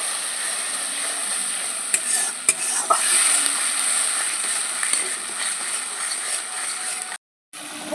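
Mustard paste with turmeric and salt frying in hot oil for a mustard fish curry, a continuous bright sizzle with scattered spatula scrapes and clinks against the pan, cutting out abruptly near the end.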